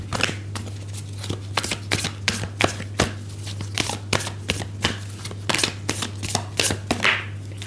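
Tarot cards shuffled and laid down, a run of quick crisp riffles and soft slaps repeating steadily at close range over a constant low hum, with no voices.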